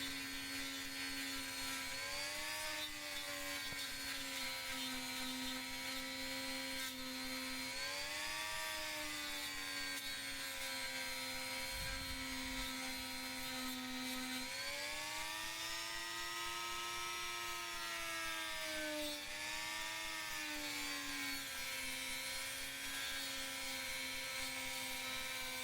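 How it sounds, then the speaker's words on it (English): A Dremel rotary tool sands texturing grooves into a homemade custom knife handle, giving a steady, close high-pitched whine whose pitch dips and rises as the bit loads against the handle, running continuously without a break. "Now right now I'm just sanding some grooves into the handles to give it some"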